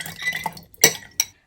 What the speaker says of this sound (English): I'm gonna pour the boba in first.